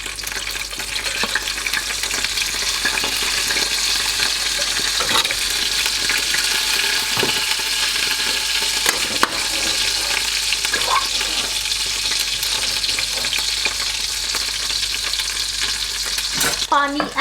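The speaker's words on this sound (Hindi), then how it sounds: "let me add some water." Water hits a hot pot of cauliflower and meat curry, giving a loud, steady sizzle mixed with stirring and scraping that runs without a break for about seventeen seconds.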